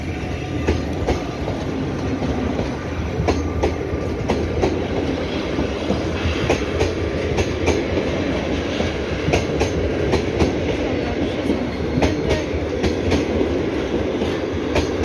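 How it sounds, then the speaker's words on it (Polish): A Griffin locomotive pulls the old passenger carriages of a TLK train out of Toruń Główny station: a continuous rolling rumble overlaid with regular clickety-clack wheel beats over rail joints, moderately near and steady throughout. "Odjeżdża właśnie Griffin."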